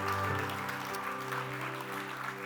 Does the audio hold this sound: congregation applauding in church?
yes